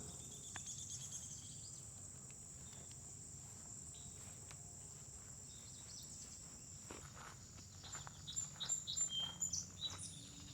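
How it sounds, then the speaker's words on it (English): Small birds chirp faintly by a pond on a wooded trail, with scattered high tweets over a soft bed of insect buzz and light footsteps. The chirps grow a little busier toward the end. "The little birdies"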